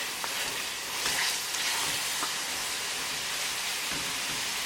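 Minced lamb for spinach keema frying on high gas while being stirred, a soft, even sizzle with faint scraping and occasional crackles, fairly quiet and without talk.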